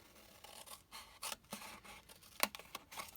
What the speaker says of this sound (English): So you want to snip in